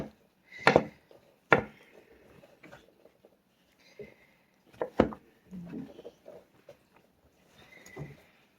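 A knife slices vegetables into thin pieces for hibachi, giving a few sharp, separate cuts with pauses between them. Fainter knocks and handling sounds fill the gaps.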